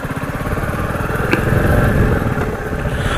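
A new-generation Royal Enfield motorcycle engine running while riding, a loud close steady thump of firing pulses with a rough mechanical clatter, continuous throughout.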